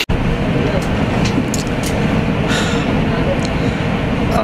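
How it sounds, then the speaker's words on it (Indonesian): A dense, steady rumble fills the inside of a moving train carriage, a continuous roar of wheels and rails with faint rattles and clicks on top, loud and close. "sekarang kita udah di kereta"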